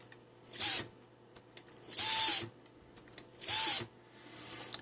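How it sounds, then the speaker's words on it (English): A single drone motor spins up to maximum throttle and drops back to minimum three times, each run a loud, close whirring burst with a rising whine, separated by short near-silent pauses. "it should go to max throttle and then to minimum throttle, back and forth, back and forth"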